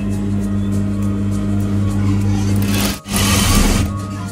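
A sewing machine stitches an abaya with a steady, loud mechanical whir that cuts out briefly for a moment, then resumes with added fabric rustle.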